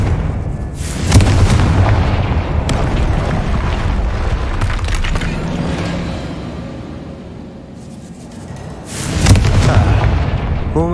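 A Confringo blasting spell in the game Hogwarts Legacy sets off a heavy explosive boom with a long rumbling, crackling tail that fades, then a second loud blast bursts near the end.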